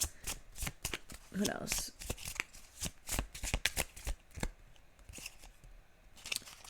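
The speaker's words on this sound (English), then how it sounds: "Gotta shuffle again in case I don't wanna." A deck of tarot cards is shuffled during a reading, rapid riffling and sliding card flicks in a busy run of crisp bursts, with a brief spoken question from a nearby voice.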